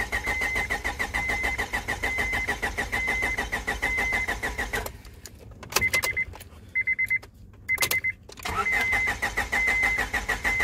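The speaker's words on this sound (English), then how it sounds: "It will crank because my fuel pump is weak" A 2002 Honda Civic with a weak fuel pump cranks loudly in a rapid, steady starter rhythm, stops briefly amid short whirs and clicks, then resumes cranking without catching.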